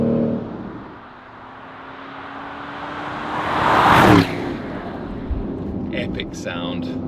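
Porsche Cayenne GTS Coupé engine swelling as it accelerates hard out of a corner, building to a loud peak before easing back to a steady drone, with a person talking over the cabin sound.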